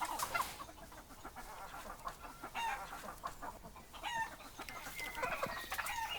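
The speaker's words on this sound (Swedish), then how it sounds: "detta är ju då min guldsvartrandade paduangrupp. Med friserad tupp." A flock of gold black-laced Padovan chickens with a frizzled rooster clucks and squawks close by in a busy, irregular chatter, with sharp calls scattered throughout and no talking.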